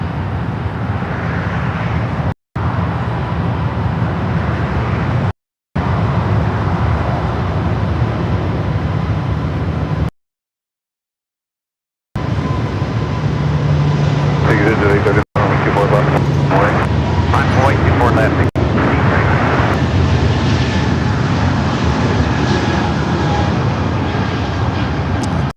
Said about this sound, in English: let's go to the Air Canada Airbus A220-300, now rolling down 24 left